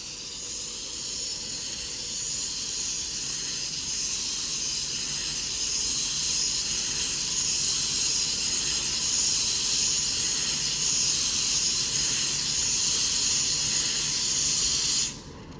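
A Class 390 electric train at Oxenholme station in the Lake District gives off a loud, continuous hissing spray that holds steady and builds slightly before cutting off abruptly near the end.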